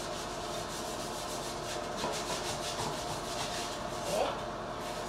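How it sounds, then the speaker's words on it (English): A dirty toilet gets scrubbed by hand, a steady, close, rhythmic rubbing and rasping of brush strokes repeating back and forth without pause, with faint talk in the background. "So I'm just gonna go ahead and clean this, scrub it."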